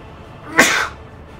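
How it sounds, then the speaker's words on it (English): A single sharp sneeze from someone with hay fever, short and fairly close against quiet room tone. "I'm about to sneeze."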